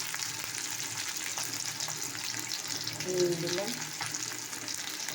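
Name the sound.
onion and chili frying in hot oil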